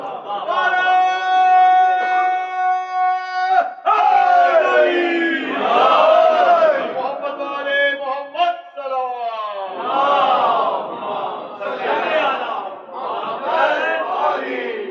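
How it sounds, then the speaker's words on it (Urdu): An audience at a religious gathering celebrating an imam's birth chants slogans and salawat together, loud and near, with massed voices rising and falling in rhythmic waves. "جو لوگ پریشان ہو رہے ہیں نعرے سے سلوات سے"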